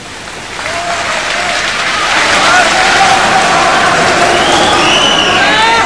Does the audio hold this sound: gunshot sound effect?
no